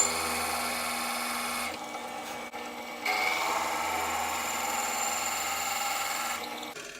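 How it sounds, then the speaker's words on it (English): A pen mill trimmer squares and polishes the ends of a pen blank, giving a close, rasping grind that stops briefly, resumes with a sharp start, and fades near the end. "as the trimmer comes down, it'll actually polish this top edge"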